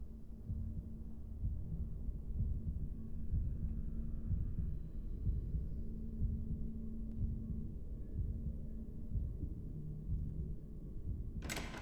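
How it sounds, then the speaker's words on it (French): A slow, muffled heartbeat thumps steadily in the video game Boris and the Dark Survival, low and throbbing under a faint hum, with a brief sharp noise right at the end. "J'entends mon battement de cœur me s'éloigner."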